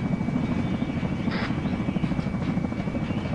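Helicopter in a multiplayer military video game drones with a steady, heavy rotor thrum close by, constant and loud, with a brief higher whine rising partway through.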